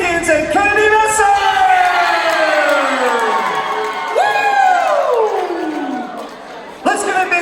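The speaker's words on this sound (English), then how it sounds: "Let's give a big Spartan round of applause for all our candidates for being nominated." A large school crowd at a homecoming courtwarming event cheers loudly for the nominees, with shouts and whoops filling the space continuously and a fresh burst of yelling rising near the end.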